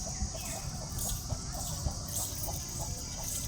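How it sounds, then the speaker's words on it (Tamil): Farm chickens cluck in short scattered calls over a steady background hiss, moderately close, with no talking. "நம்ம கோழிங்கெல்லாம் பாருங்கள்"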